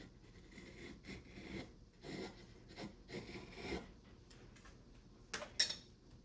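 A knife carves cottonwood bark, peeling off curls in a run of short, rasping scrapes with brief pauses between them, close and fairly quiet, ending in one sharper, louder stroke.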